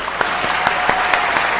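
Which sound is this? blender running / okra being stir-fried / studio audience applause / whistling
studio audience applause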